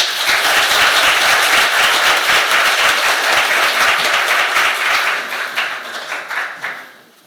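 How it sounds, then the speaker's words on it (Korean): A church congregation breaks into loud, sustained applause, a dense wash of many hands clapping together that holds steady and then thins out and fades over the final seconds. "우리 박수 한번 합시다."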